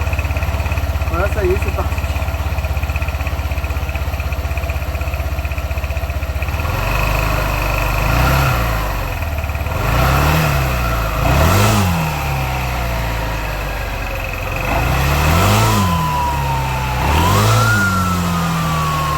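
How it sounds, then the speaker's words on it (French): A converted bus's engine starts and revs in several rising bursts over a steady idle rumble, close and loud, while people talk nearby. "on va faire un petit test, juste on va démarrer pour voir."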